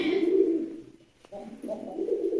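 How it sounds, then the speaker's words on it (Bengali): Local desi pigeons of mixed breeds, brooding pairs kept with their eggs, give low, throaty coos nearby. Two rolling calls are split by a short pause. "এই যে ডিম সহ কবুতরগুলা কিনে আনলাম"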